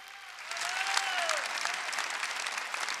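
A church congregation claps together during a Sunday worship service, a dense, steady wash of applause that swells after a quieter start and holds evenly, with a faint voice briefly audible over it.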